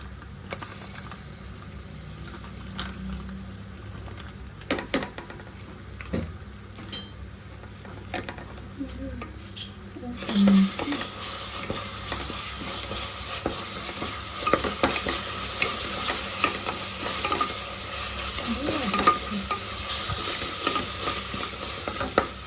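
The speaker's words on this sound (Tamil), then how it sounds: "உள்ளி வதங்கி வச்சு அடுத்து கொஞ்சம் இஞ்சி போட்டு போடலாம்" Onions sautéing with a steady soft sizzle in a pan, joined about halfway through by ginger, after which the frying grows brighter and fuller, with occasional stirring clinks close by and no voices.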